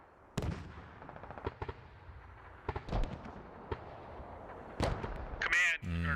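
Mortar rounds land during a Squad match, a string of sharp distant booms and cracks scattered irregularly over several seconds, ending in a louder close burst with brief radio chatter.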